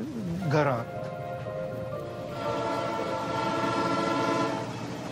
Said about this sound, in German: Nach mehreren Tagen passiert der Zug den Baikalsee